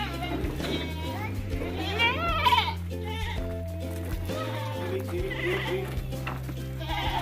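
Female goats bleat repeatedly in a pen at a goat farm in Malang, their calls mixed with children playing, people talking and a steady low hum in the background.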